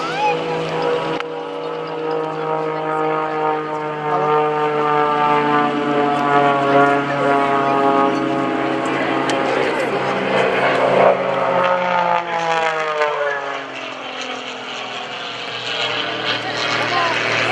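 An MX2 aerobatic propeller airplane at the 2015 Greenwood Lake airshow drones steadily with a strong harmonic engine tone, then its pitch shifts and falls as it passes, loud and continuous throughout.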